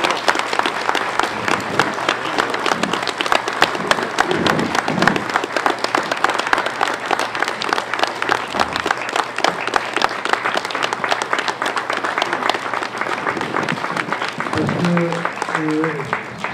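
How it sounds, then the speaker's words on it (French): Dense, sustained audience applause fills the whole stretch, many hands clapping steadily at close range, with a brief voice or tonal sound rising near the end. "vous méritez nos applaudissements"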